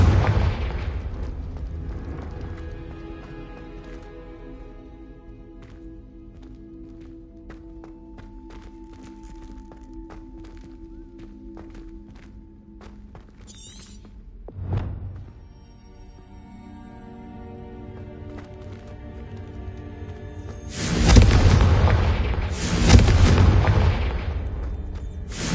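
The Confringo spell from a fantasy video game going off: a sharp blast at mid-moment, then a bigger rumbling double explosion near the end, after quieter stretches of low ambient game sound.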